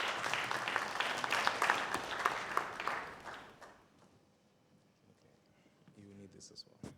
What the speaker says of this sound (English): Please join me with a loud round of applause as we welcome him.